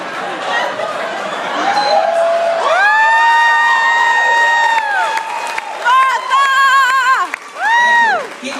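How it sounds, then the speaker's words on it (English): A comedy club audience cheering, whooping and applauding, loud crowd noise with high sustained whistles and shouts rising and falling over scattered clapping. "Keep applauding me because I get to take a sip every time you applaud."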